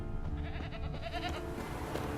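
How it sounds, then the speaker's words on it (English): A goat tied to a stake as bait bleats in The Witcher 3 video game, one short, wavering, pulsing cry set against steady game ambience. "Oh, that's the goat."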